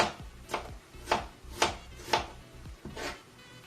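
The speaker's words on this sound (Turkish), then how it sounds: "ince ince kestim patateslerimizi" A knife slices thinly through potatoes for a layered minced-meat börek, giving about six crisp cuts in a steady rhythm, close and fairly quiet.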